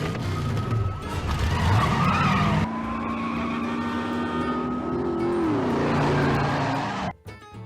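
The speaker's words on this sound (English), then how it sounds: "Just get in your car, speed through that school zone, and you're off scot-free." A car tearing off with skidding, squealing tires, its engine roaring loud and close as the pitch sweeps through gear changes before cutting off abruptly near the end.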